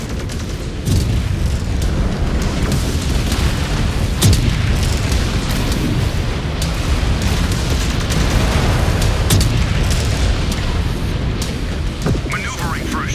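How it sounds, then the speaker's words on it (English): Missile explosions strike during combat in MechWarrior 5: Clans, a rapid series of loud booms and cracking impacts over a heavy, continuous rumble, with voices talking at times. "Incoming missile."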